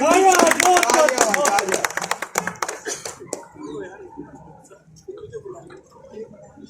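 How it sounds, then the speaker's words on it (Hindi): A burst of applause with voices over it at a literary show in Major Dhyan Chand stadium fades after a few seconds, leaving quieter talking in the background. "जोरदार तालियों"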